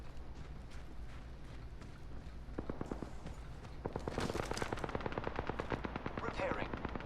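Rapid automatic gunfire in the Apex Legends battle royale shooter, sparse early then a dense, loud burst of repeated shots in the second half, with mechanical clatter mixed in.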